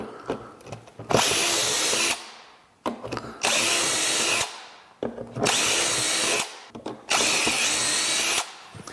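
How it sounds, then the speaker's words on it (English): A power drill whirs in four separate bursts of about a second each, drilling shelf pin holes in a wooden cabinet side, with short clicks and pauses between them, close and loud. "Drill my first hole."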